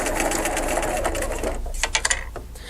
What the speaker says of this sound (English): Put my foot down and sew off.